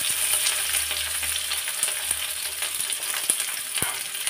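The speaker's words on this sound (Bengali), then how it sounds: "জিরাটা দেওয়ার সাথে সাথেই পেঁয়াজ কুচি দিয়ে দিলাম।" Chopped onion dropped onto whole cumin seeds in hot oil in a wok, frying with a steady close crackling sizzle and a few sharp pops and stirring clinks, no voices.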